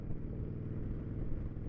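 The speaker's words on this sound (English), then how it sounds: "we're gonna make it sound kind of motorcycle-y today" A Harley-Davidson motorcycle engine and exhaust rumble steadily while riding at Ocean View, Norfolk, a loud, close, low throbbing drone picked up near the tank and seat.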